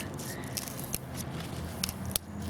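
Heavy cutters snip through a thick succulent stem outdoors during backyard planting, several sharp crisp snips standing out over a continuous low rustling background, close and moderately loud.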